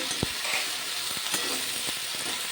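Chopped vegetables, cauliflower stems among them, sizzle steadily in a hot pan after turmeric powder is added, with a few brief stirring knocks against the pan and no talk.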